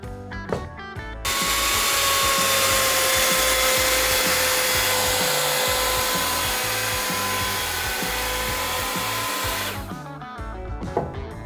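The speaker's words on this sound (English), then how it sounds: "I'm going to cut a groove for an angle bar in the window frame materials." A power tool cuts a groove for an angle bar into straight-grain cedar window frame stock, a loud steady whining cut of about eight seconds, with brief tool handling and knocks before and after.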